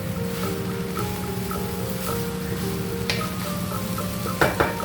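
Thai pineapple fried rice stir-frying in a pan, with a steady close sizzle and repeated scraping and clinking of a utensil against the pan, ending in a few louder knocks.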